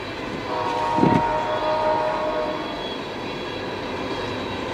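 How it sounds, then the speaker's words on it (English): A distant Norfolk Southern freight train horn sounds a sustained tone over the steady rumble of passing rail cars. "There's the Norfolk Southern going through. You can hear the horn."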